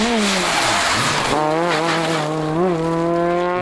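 Peugeot 206 rally car on a rally stage at the Rallye de Lozère, its engine loud and close, revving high with rising and falling pitch as it shifts through gears.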